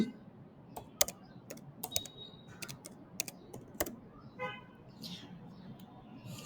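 Keystrokes on a computer keyboard entering a date of birth into a visa application form, sharp irregular clicks in short bursts, close and fairly quiet with faint room noise.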